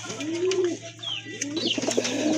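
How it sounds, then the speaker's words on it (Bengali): A large pair of American Lakka pigeons coo close by, with a drawn-out throaty call followed by choppier bursts of cooing and a few faint chirps over a low steady hum. "এক জোড়া আমেরিকান লক্ষা কবুতর খুবই চমৎকার অনেক বড় সাইজের"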